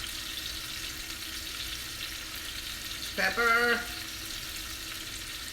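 Steak searing in a pan gives a steady broadband sizzle throughout, with a brief louder clatter midway and a single spoken word over it.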